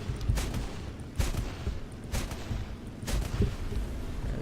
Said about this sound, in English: hitting it with these cannons can be pretty tricky